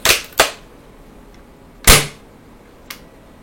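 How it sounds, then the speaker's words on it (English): Airsoft gun being taken off safety and cocked: a few sharp mechanical clicks and snaps, two close together at the start, a louder one mid-clip and a fainter click near the end, with no talking. "You have to take it off safety in order to pull it back and cock the gun."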